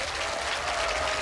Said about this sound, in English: Clap if you think this could be a fake.